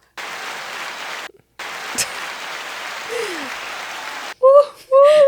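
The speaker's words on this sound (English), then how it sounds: "The people's clapping." A canned applause sound effect played on a podcast, an even hiss-like wash of clapping with a brief dropout, followed by voices speaking over it.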